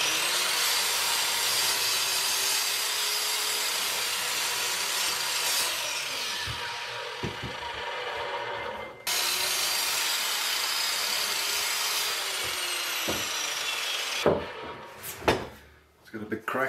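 Timber being hand-sawn for a bookshelf, with a long, steady, rasping run of strokes that breaks off briefly midway, then resumes and ends with a few knocks and handling sounds, close by.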